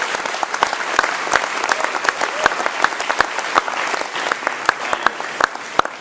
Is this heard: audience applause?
yes